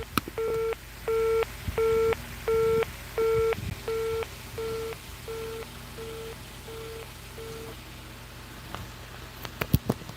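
A telephone busy signal on a call beeps in evenly spaced pulses, about a dozen short tones that fade softer toward the end, followed by faint handset clicks.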